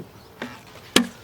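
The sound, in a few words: hive tool prying apart a beehive box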